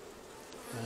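Honey bees buzz inside an open hive, a close, steady hum that rises and thickens toward the end, with no voices heard.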